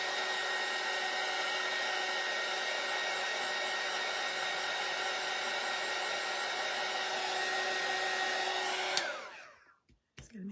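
A hair dryer blows steadily and loudly, drying paint pen on a snowman craft, then clicks off near the end and leaves quiet handling noises.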